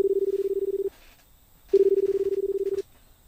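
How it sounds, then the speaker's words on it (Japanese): Touch-tone beeps from a mobile phone number being dialed: two long steady tones separated by a brief pause, clear and close with no talking. "今携帯にかけてみるか。"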